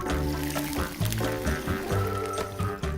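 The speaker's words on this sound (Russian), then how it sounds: "сейчас самое время долить воды. Ну, я думаю, примерно литр воды." About a litre of water poured into a paella pan as it cooks, a steady splashing, gurgling pour with sizzling beneath it, close and continuous.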